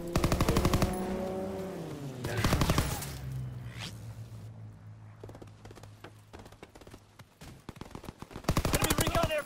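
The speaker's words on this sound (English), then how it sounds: "Strafing the target." In the Call of Duty: WWII video game, a fighter plane strafes the target with rapid bursts of machine-gun fire, loud and repeated, broken by quieter stretches of scattered impacts and distant clatter.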